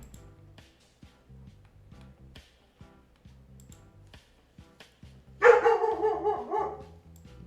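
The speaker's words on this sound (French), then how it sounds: "C'est mon chiot berger allemand là, elle a 6 mois." A six-month-old female German shepherd puppy lets out a sudden burst of sharp, loud barks and yelps near the end, after soft rhythmic game music plays alone.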